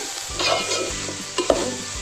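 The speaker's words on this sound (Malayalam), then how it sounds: "അല്ലാത്തതെല്ലാം ഇതിലിട്ട് നന്നായിട്ട് വറുത്തെടുക്കണം" A spatula scrapes and stirs dry chutney powder ingredients roasting in a hot pan, with soft rattling and faint sizzle, close up and without any talking.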